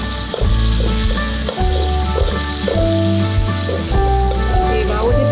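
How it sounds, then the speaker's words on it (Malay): Chillies fry in a wok with a loud, continuous sizzle. Repeated scraping stirs cut through the hiss throughout. "Terus kacau dan pastikan cili kita tidak melekat pada kuali tersebut."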